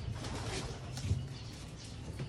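Pigeons cooing close by in a loft, low soft coos repeating steadily through a continuous murmur of birds, with a few faint higher chirps mixed in.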